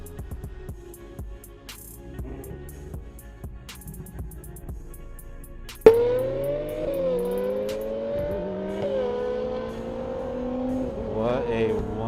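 A car's engine idles with light clicks, then fires up sharply and revs, holding a strong rising drone that climbs through shifts and stays loud to the end.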